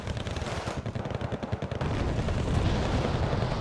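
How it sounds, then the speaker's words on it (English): BTR-50 armored vehicles firing their guns in a war video game, a dense stream of rapid machine-gun bursts rolling into a sustained heavy rumble of continuous fire, loud and close. "the BTR 50s are adding their fire"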